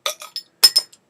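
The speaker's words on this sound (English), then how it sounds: "So let's get this cap off." A Wychwood King Goblin beer bottle has its cap pried off: a quick run of bright metallic clinks and a sharp snap, close and crisp, with no talking.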